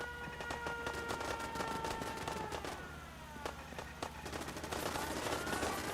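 Rapid gunfire crossfire from several automated kill-box turrets in Fallout 4, dense overlapping bursts and shots rattling continuously throughout with a busy clatter of impacts.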